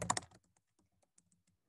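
Typing a username and password on a computer keyboard at a school login page, a quick cluster of close key clicks followed by sparse, faint single taps.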